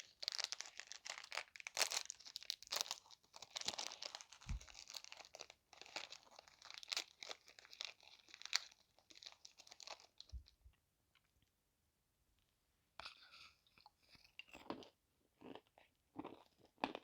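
A crunchy American pretzel snack is bitten and chewed up close, giving dense bursts of crisp crackling that pause for about two seconds of near silence and then resume more sparsely.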